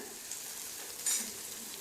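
Chopped coriander leaves and stems sizzle and crackle steadily in a hot pan for chutney, with a brief stirring scrape partway through.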